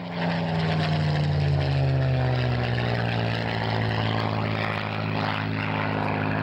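Supermarine Spitfire with its piston engine droning steadily at an airshow at Shoreham, a loud continuous propeller roar that slowly shifts in pitch as the aircraft passes.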